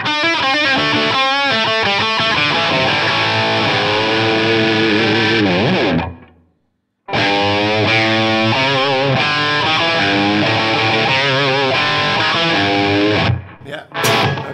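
A high-gain electric guitar played through a PRS fitted with Gibson 57 Classic pickups rings out as loud, distorted chords and melodic lines with a chorus-like sheen. A brief silent gap falls in the middle and a short pause comes near the end.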